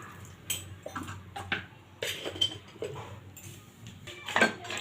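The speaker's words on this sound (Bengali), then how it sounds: "একটুখানি একটু নেড়ে চেড়ে এটা ঢাকা দিয়ে দেবো" Cabbage being stirred in a metal pot for a sweet cabbage sandesh, with scattered clinks and scrapes of a spoon against the pot and clattering cookware, fairly quiet and close, with no talking.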